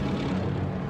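Wartime aircraft over Indochina fly overhead as a steady, dense engine roar that holds at an even, loud level throughout with no break.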